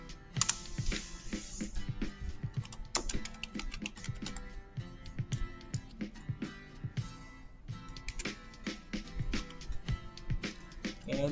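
Steady, close typing on a computer keyboard while entering an IP binding in a MikroTik hotspot setup, continuous crisp key clicks with brief pauses and no talk.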